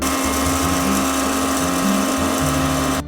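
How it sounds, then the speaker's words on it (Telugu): A mixer grinder whirs loudly and continuously at close range while grinding roasted fenugreek seeds to powder, a harsh high-pitched motor drone with a rattling grind, then cuts off abruptly. "దీన్ని మిక్సీలో వేసి పొడిగా చేసుకుందామండి"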